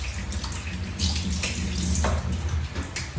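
Three cups of water pour into a kalamay mixture, a continuous splashing gush that is close and loud throughout, with no speech.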